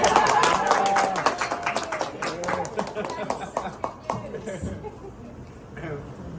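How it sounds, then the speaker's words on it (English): An audience at a real estate market seminar breaks into clapping, a loud burst of many hands that tapers over several seconds into scattered claps and laughter, with talk underneath. "I feel like we should start clapping after that."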